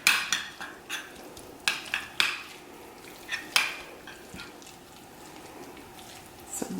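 Ground meat being mixed and pushed around in a pan, with a run of close scraping and clinking strikes from a utensil against the pan, some bunched together and some spaced apart, and quieter stirring between them.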